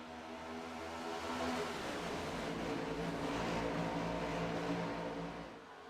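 A pack of stock race cars roars away at the green flag at Atlanta Motor Speedway in a racing game, a loud, sustained layered engine drone that swells as they accelerate and then eases off.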